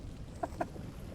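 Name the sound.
rooster clucking while fighting back, video game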